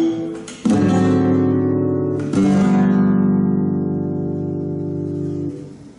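A flamenco guitar sounds a flat 7 chord in two strummed strikes, the second ringing out and slowly decaying, close and solo.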